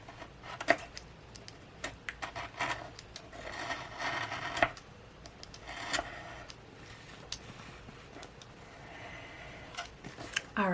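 A hand tool trims the edge of a DIY room decor craft piece, producing scattered short scraping and clicking taps, close and moderately quiet, irregular in rhythm with small pauses.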